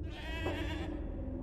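Goat bleating in the Swiss alpine horror game Mundaun: a single clear wavering bleat, close and fairly quiet, with no talk over it.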